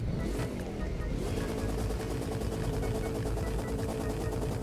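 Loud, buzzy car engine drone in The Crew racing game with a rough, rattling texture, steady and close throughout, briefly revving near the start.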